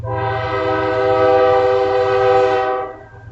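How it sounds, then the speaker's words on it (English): Loud, close train horn sounding right outside a window as a train passes, one sustained blaring chord lasting nearly three seconds over a low rumble of rolling cars, then cutting off. "I'm right next to the train, guys, so it might be really loud."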